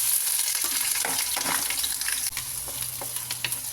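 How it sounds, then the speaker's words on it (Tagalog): Onion and garlic sauté in a pan for pansit, a loud crackling sizzle close by, broken by scraping stirs and a few knocks of the utensil against the pan, with no voices. "Gisa-gisa lang natin yung sibuyas at saka yung bawang para mag-brown-brown siya."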